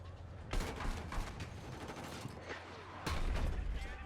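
Gunfire in the video game Battlefield 6 comes as rapid bursts of shots, one near the start and a heavier, louder one toward the end, with mechanical clatter between them and no talking.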